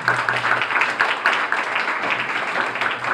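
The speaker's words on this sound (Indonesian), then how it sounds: "Tepuk tangan untuk mereka." Audience at a school leadership camp closing ceremony claps steadily for a group of students, a dense, continuous round of applause at moderate loudness with a faint background hum.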